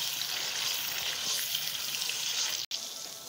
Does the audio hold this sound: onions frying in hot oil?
yes